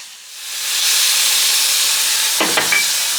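Torn sweet potatoes searing on a hot griddle while a spatula presses them down: a loud, steady steamy hiss swells up and holds, with a couple of brief scraping knocks near the end.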